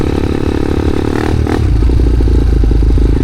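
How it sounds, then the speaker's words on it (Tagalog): A motorcycle labors along a rough road, its loud engine droning low and steady, then surging heavier after a brief scraping clatter, with no voices. "tapos si Kuya Bangs na hirapan pa yung motor niya"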